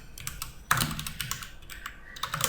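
Computer keyboard typing nearby, quick irregular clicks of keys in short bursts with a slightly heavier keystroke partway through, steady and alone without talk.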